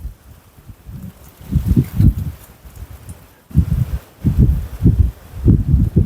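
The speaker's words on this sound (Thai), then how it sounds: "ลมอีหลีนี่" Strong wind blows outdoors around an old house, buffeting the microphone in rough, rumbling gusts that come and go in waves.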